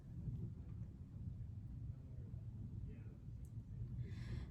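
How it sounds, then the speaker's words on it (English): A storm outside gives a low, continuous rumble of thunder, faint and distant, lasting throughout with no sharp cracks, while the indoor space stays otherwise quiet. "You all will be hearing a lot of thunder in the background."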